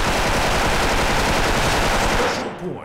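Sustained, loud automatic fire from a DREAD M4A1 rifle in the online shooter Special Force, a dense unbroken burst for over two seconds that then cuts off, leaving a brief fading tail.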